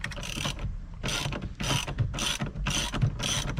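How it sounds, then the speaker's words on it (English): A ratchet clicks in quick rhythmic bursts, about six strokes, while loosening the bolt holding a steering wheel on a 2015 car, close and crisp with no talk. "Last step is to remove the bolt."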